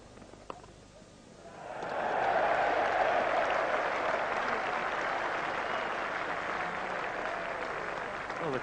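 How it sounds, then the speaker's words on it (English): A large cricket crowd at an England versus Australia Test match breaks into sustained cheering and applause, swelling quickly from a quiet murmur and holding loud and steady to the end. "the cheer would suggest that England have just won this Test match"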